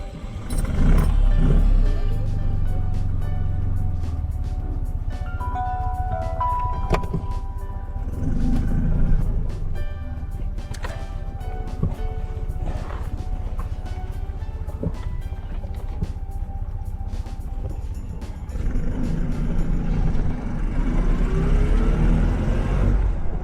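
A 32-year-old Polski Fiat 126p with just under 71,000 km and a missing engine bolt runs close by, its small engine holding a steady, loud idle with a few swells in revs.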